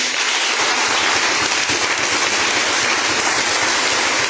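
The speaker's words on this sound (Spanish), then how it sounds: "Regálale ese fuerte aplauso al Señor" A church congregation breaks into loud, sustained applause, a dense wash of many hands clapping together that swells in after a brief quiet start and carries steadily to the end.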